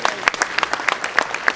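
Louder applause from a conference audience at a national stakeholders' meeting on schools, a burst of distinct, close hand claps in quick irregular rhythm over a brief moment.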